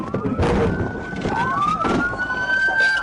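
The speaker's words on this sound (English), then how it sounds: "Police car." A police car siren wails loud and close during a high-speed trooper pursuit, its rising and falling tone sweeping up and down over rushing road and engine noise.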